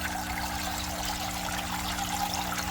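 Water from a hygger hang-on-back aquarium filter circulates in a steady, continuous trickle and splash, close and even throughout with no voices.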